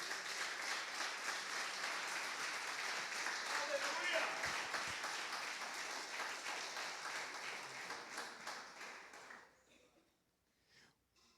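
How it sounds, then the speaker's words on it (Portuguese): A church congregation claps together in sustained applause, a dense crackle of many hands that holds for several seconds and then thins and fades out. "dê uma linda salva de palmas ao Senhor"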